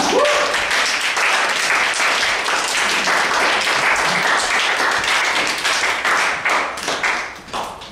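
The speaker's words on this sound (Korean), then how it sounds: "형수 형들 한번 박수로 맞이해볼까요?" Applause from a young adults' church congregation welcoming a group of young men to the front, steady dense clapping filling the room for most of the stretch before thinning out near the end.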